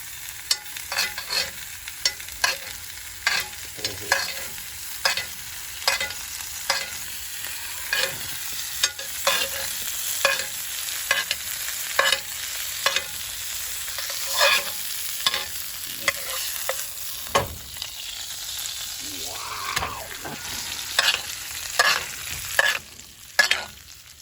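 A ribeye steak sizzles in a pan while butter is spooned over it again and again, steady frying broken by regular basting clatters roughly every second, near and loud, with no talking.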